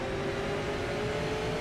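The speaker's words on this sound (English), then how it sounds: "Riding on board with car 80, listening the motor." The engine of supermodified race car 80, heard on board during a race at Oxford, gives a steady loud droning whir with a sustained tone throughout, close to the microphone.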